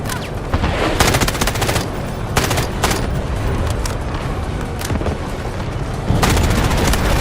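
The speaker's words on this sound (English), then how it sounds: "Roger that, artillery barrage incoming." Artillery barrage in the video game Delta Force: dense, continuous booming explosions and rapid gunfire bursts, loud throughout with heavy impacts swelling near the end.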